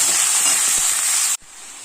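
Pointed gourd and potato sizzling in a hot pan with occasional stirring scrapes, a loud, steady frying hiss that cuts off sharply near the end, leaving only a faint softer sizzle.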